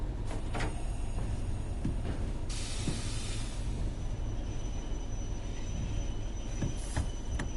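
Train running on rails in a PS4 train simulator game, a steady rumble of wheels and wagons with occasional clanks and a brief hissing burst, continuous and fairly loud without talk.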